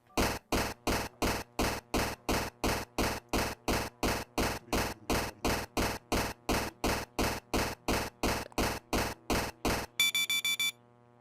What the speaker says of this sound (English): A beep emanates from your wristwatch.